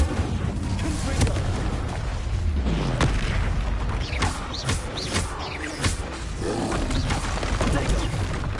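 Confringo explosive spell blasts go off in Hogwarts Legacy: a dense run of booming bursts and crackling impacts over a constant rumbling game din, with several sharp hits standing out.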